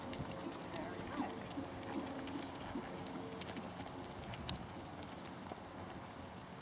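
A horse's hooves clip-clop faintly and steadily under constant outdoor noise, with scattered sharp knocks and people talking nearby.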